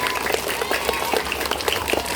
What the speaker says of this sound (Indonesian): aplaus untuk Ibu Is dan Ibu Dina